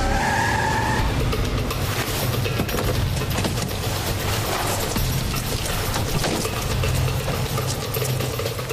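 A car skids loudly to a stop in a street, with harsh tire noise and engine roar that fill the whole stretch, close and continuous.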